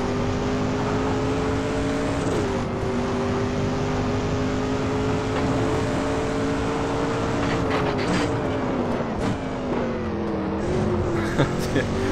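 Manual-gearbox road car engine droning steadily in the racing sim Assetto Corsa, pitch climbing and dropping with several gear shifts, loud and continuous with a voice talking over it.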